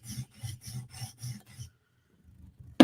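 Tanto M4 PM2 knife edge sharpened on a stone in six rhythmic rasping strokes, close and steady, then a pause and a sharp scrape at the end.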